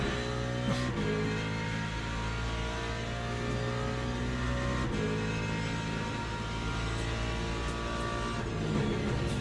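A race car engine in the Le Mans Ultimate racing game drones steadily and loudly on throttle, its layered mechanical whine holding almost unchanged from start to finish with no pauses.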